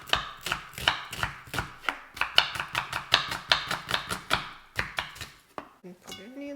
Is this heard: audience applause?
no